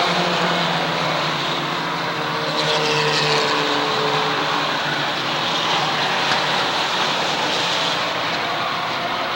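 Mini stock race cars, among them a Ford, a Honda, a Volvo, Mustangs and an Opel Manta, roar around the oval at Waterford Speedbowl in a continuous, dense, distant engine drone during the feature race.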